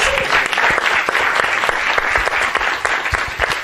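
Loud, dense applause from a crowd at a reality games event, many hands clapping steadily and close, continuous throughout with no speech.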